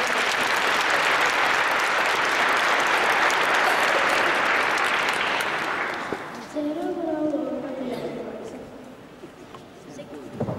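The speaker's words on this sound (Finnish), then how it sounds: "Annetaan aplodit tälle mahtavalle tehtävälle" An audience at a Finnish concert claps loudly and densely for a choir for about six seconds, then the applause fades and a voice speaks over the thinning claps.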